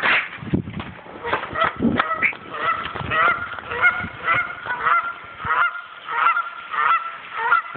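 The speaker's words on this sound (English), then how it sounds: "Some geese don't learn either." Canada geese honk repeatedly and loudly at close range, a dense overlapping chorus of harsh calls with short pauses, near a path littered with droppings.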